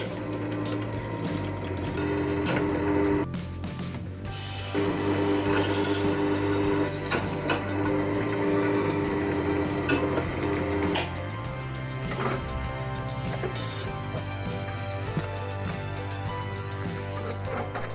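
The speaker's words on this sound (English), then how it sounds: "Drill the required holes" A power drill whirs steadily, its motor pitch rising and dropping as it bores several holes in short bursts through the heater duct of a 1971 Bedford CF1 camper van, loud and close.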